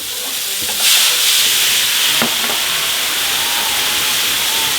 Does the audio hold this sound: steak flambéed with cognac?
yes